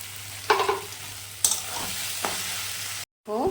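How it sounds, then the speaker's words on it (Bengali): Spices, onion and tomato sizzling in a pan as a spatula scrapes and stirs a few times over a steady frying hiss, with a brief cut to silence near the end. "পুরো মশলার সাথে কষাতে লাগবে টমেটো আর পেঁয়াজ।"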